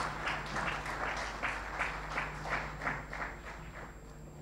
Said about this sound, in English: That too deserves a clap, I think.